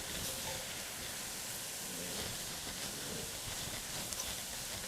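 Tomato paste fries with meat in a pan for a Brazilian-style spaghetti meat sauce, giving a steady, even sizzle and hiss with no voices over it.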